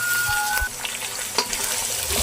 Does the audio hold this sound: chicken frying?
yes